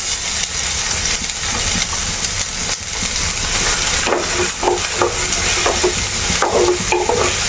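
Garlic and onion frying in coconut oil in a hot pan, with a steady broad sizzle throughout and irregular scraping stir strokes growing more frequent toward the end.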